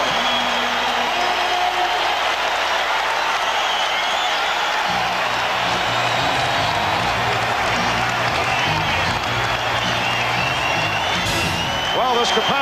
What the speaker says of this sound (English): capacity crowd reacting to the Cleveland Cavaliers, who come from behind, and they've tied the Bulls at 55